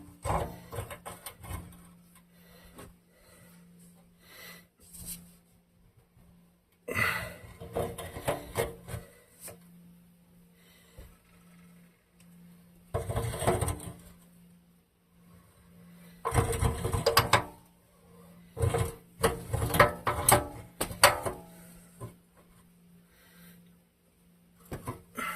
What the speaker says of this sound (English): Grabbed an 18-inch pipe wrench. I figured that should probably do it. And we're moving.